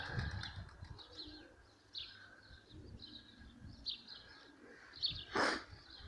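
Released homing pigeons flap their wings on a grey, windy morning, giving soft irregular fluttering bursts against steady wind noise, with a louder close flurry near the end and a few faint chirps.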